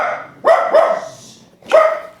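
Dogs bark indoors, close and loud: a sharp bark, then a quick second one, a pause, and a third bark.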